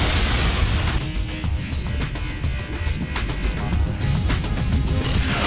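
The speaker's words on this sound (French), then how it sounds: "Des explosions, oui, mais en Activision." Explosions in the Spider-Man 2 video game roar as a continuous, loud wash of crashing, rumbling blasts with no clear gaps.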